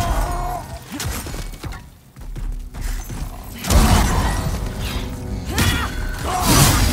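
A boss's explosion attack in Demon's Souls on PS5 lands as a loud, close crashing burst with shattering debris, rising out of dense, continuous battle noise and rumble, with no voices.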